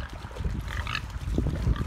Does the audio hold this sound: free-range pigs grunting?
yes